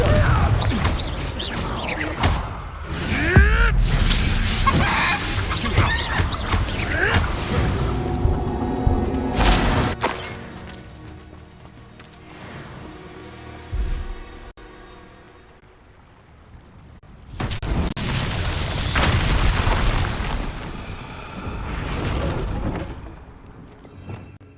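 Spell blasts and crashing impacts in a Harry Potter video game, with a loud burst of explosive booms and thuds, a quieter lull, then another dense flurry of magical combat noise.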